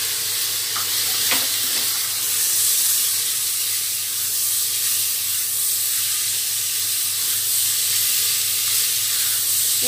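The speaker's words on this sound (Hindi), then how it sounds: "एक से 2 मिनट मसाले को हमें भूनना है।" Masala for vegetable khichdi, with ginger-garlic paste, red chilli, peas and salt, frying in a pan with a steady close hiss and sizzle and a few light stirring scrapes, loud and continuous throughout with no talking.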